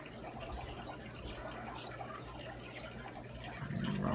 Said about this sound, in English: I'm slowing the water flow ever so slightly